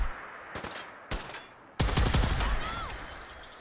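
Plasma weapon fire in Fallout 4, heard as a few sharp energy blasts followed by a dense, loud volley of rapid shots with a rising electronic whine. Game ambience sits underneath, and no one speaks.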